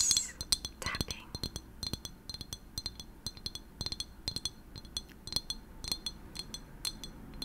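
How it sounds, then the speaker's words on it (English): Long fingernails tap on glass in quick irregular clusters, bright clinking ticks close to the ear, soft and intimate with faint breathy noise behind them and no speech. "glass tapping."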